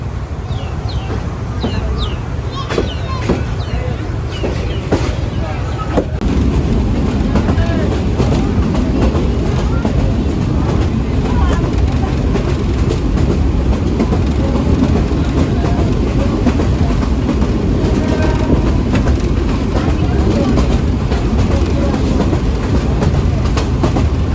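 The Dolonchapa Express rumbles along loud and steady from onboard, its rails clicking and clattering continuously with a constant roar and no pauses.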